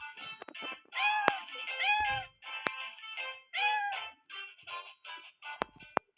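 A cat meowing repeatedly, several clear drawn-out meows in quick succession, close and fairly loud, with a few sharp clicks between them.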